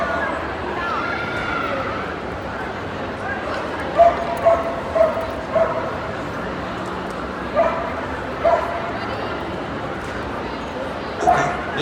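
Dogs at a Crufts display team demonstration giving several short yips and whimpers over a steady crowd murmur in a large hall, while a commentator talks throughout.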